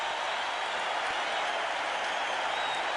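A stadium crowd roars and applauds continuously for Michael Jordan's slam dunk at the slam dunk contest, with dense, sustained cheering and clapping filling the whole moment.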